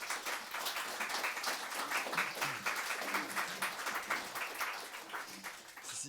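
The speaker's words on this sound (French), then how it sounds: "je pense qu'on peut applaudir nos deux intervenants" Audience applause for two speakers at a geography café talk in Reims, a steady wash of many hands clapping that fills the whole stretch at moderate volume.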